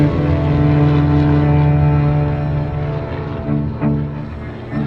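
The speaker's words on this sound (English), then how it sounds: "It was the sound of the motor I remember the most." A propeller airplane engine drones steadily and loudly throughout, a constant throbbing hum with a slight dip near the end.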